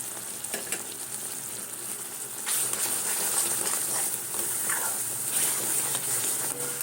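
Starfruit pickle sizzles steadily in a pan, with a brighter burst of frying as spice goes in and soft stirring scrapes, close and moderately quiet.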